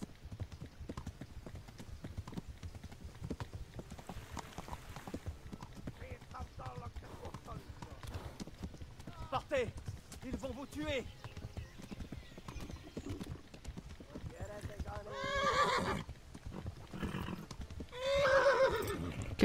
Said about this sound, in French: Qu'est-ce qu'il a le cheval